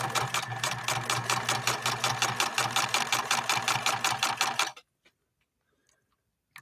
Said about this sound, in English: We're going to try to go down with a straight stitch on these 2 layers of veg tan leather.